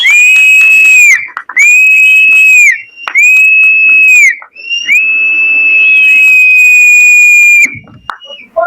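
Loud, sharp whistling at a song launch event on stage, four long sustained high notes with brief breaks between them, each rising slightly then holding steady, close and dominant with no talk.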